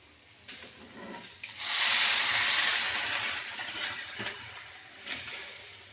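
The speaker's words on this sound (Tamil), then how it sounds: "இப்போ கொஞ்சம் தண்ணி ஊற்றிடலாம்" Water poured into a hot pan of frying drumstick leaves and moong dal bursts into a loud, rushing steam hiss that swells and slowly fades, with a few spoon scrapes and clinks, close up and without speech.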